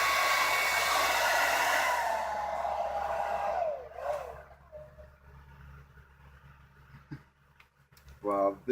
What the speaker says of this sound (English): Well, this is a lovely hairdryer.